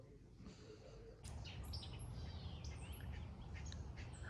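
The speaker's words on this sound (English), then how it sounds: "you can hear different birds" Several different birds chirp and tweet outdoors during a heavy April rain shower, their short calls scattered over a steady wash of falling rain that grows louder partway through.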